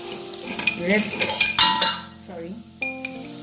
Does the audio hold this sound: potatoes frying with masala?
yes